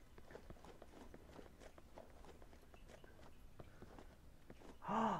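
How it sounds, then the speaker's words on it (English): Footsteps in the VR shooter Onward, a steady run of soft, quick steps under faint background noise, ending in a louder burst. "My detection of footsteps isn't too bad."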